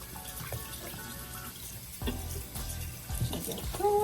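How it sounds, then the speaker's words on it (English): A kitchen tap runs cold water over tie-dyed fabric being rinsed and wrung, a steady splashing flow with small clattering bumps and shifts as the cloth moves under the stream. "I'm actually gonna use a little bit of cold water."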